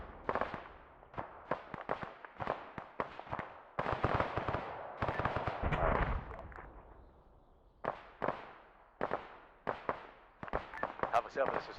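Incoming mortar fire in Arma 3 lands as a run of rough blasts and crackling bursts, some clustered and some spaced apart, mixed with radio chatter.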